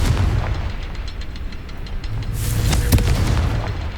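Confringo spell blasts from the Hogwarts Legacy video game boom loudly with a rumbling, crackling burst, then a sharper bright explosive hit near the end, steady and loud throughout.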